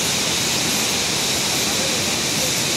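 Dassam Falls waterfall in Jharkhand pours strongly, a loud, dense and continuous rushing roar of water heard close up with no breaks.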